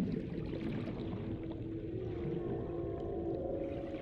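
A Ghost Leviathan in the underwater game Subnautica lets out a low, droning call that hangs steadily over a murky deep-water ambience, with no one talking.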